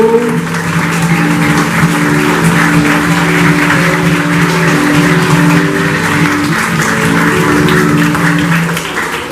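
An audience applauds at a school's 21st anniversary celebration, the clapping loud and continuous for about nine seconds over a low, droning tonal background.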